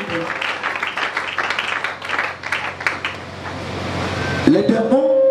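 A congregation at a French-language church service applauds loudly for the Lord, a dense, sustained wash of clapping and cheering that fills the space for several seconds before a sustained tone rises at the end.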